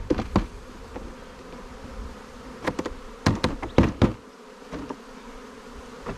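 Honeybees buzz loudly as they are tapped out of a box into a new hive, a dense continuous drone with several sharp knocks and thumps on the box.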